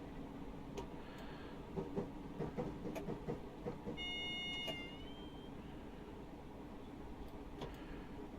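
Class 507 electric train in Train Simulator Classic rolling over points on a downhill run, rhythmic clunks and rumble under a steady hum, with a brief rising whine midway and no talking.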